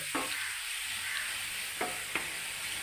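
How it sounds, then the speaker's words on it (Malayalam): Bitter gourd slices frying in a pan hiss with a constant sizzle while a utensil stirs them, leaving a few distinct scraping clicks over the steady frying. "ഉപ്പേരി വറുക്കുന്നതുകൊണ്ട് ഞാൻ ഇളക്കി. അതിന് പിന്നെ വിളക്ക് നിർത്തണം. ഞാൻ ഇളക്കിക്കൊണ്ടേ ഇരിക്കണം."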